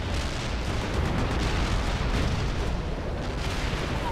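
A heavy artillery barrage in World in Conflict roars as a dense, continuous wall of booms and rumbling explosions. It stays loud and unbroken throughout, with no voices over it.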